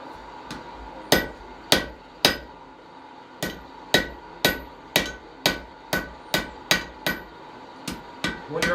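A blacksmith's hammer strikes a cutting tool on an anvil, with about fourteen sharp ringing metallic blows at an uneven, steady working pace. The blows come close and loud with no talk.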